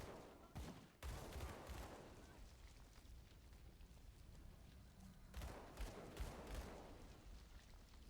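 Gunfire from a gunslinger character in the action RPG Grim Dawn, heard as two bursts of rapid shots around one and five seconds, fairly quiet and separated by a lull of low game ambience.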